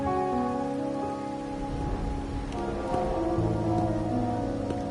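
Rain falls in the video game Wuthering Waves, a steady patter of rain that runs under sustained tonal game music for the whole stretch.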